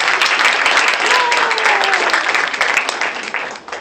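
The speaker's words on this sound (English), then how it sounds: "Can you please give her a round of applause?" Audience members at an academic symposium applaud together, a loud steady roar of clapping that fades slightly toward the end, with a faint voice briefly audible beneath.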